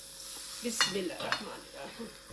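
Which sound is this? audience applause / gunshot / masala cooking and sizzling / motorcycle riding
masala cooking and sizzling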